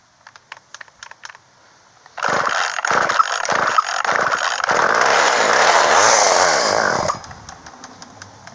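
A chainsaw with a Briggs & Stratton motor that had not been running is started: a few quick clicks, then the engine bursts into a loud, close, buzzing roar for about five seconds before cutting off.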